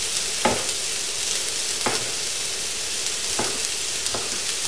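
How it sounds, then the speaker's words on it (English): Juicy tomatoes and a splash of liquid hitting a hot pan of taco filling, a steady loud sizzle broken by a few sharp stirring scrapes, with no talking. "Next we're going to add the tomatoes."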